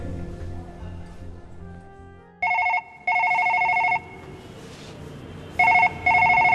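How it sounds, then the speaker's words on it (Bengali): A telephone rings in short electronic bursts, two rings, a pause, then two more, loud and close over a fading tonal background in a dramatized indoor scene. "আবার কার ফোন?"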